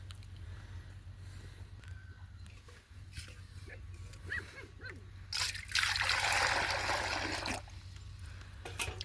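Water is poured for goats, first as a light trickle and then as a louder splashing pour lasting a couple of seconds, with people talking throughout.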